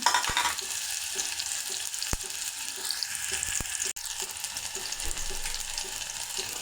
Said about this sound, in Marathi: तेल गरम झालेलं आहे आपलं आता याच्यामध्ये मी कांदा चिरून घेतले कांदा टाकते मी याच्यामध्ये